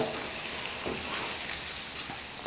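Chicken pickle masala frying in a pan, a steady broadband sizzle and crackle holding evenly across the short stretch with no voices over it.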